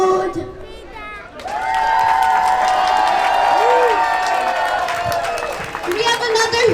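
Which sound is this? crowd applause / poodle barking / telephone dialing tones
crowd applause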